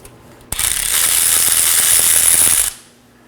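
Close by, a ratchet clicks in a quick, steady burst of about two seconds while loosening the 21mm brake caliper bracket bolts on a 2018-2024 Chevrolet Equinox front brake, with no talking.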